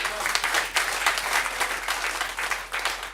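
Sustained audience applause filling a hall during a business awards event for RCM associates, steady dense clapping throughout with no break.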